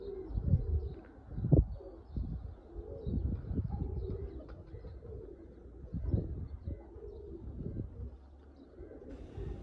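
A pair of Fakirgul pigeons coo softly and close by, several low throaty calls coming in uneven bursts against a quiet background.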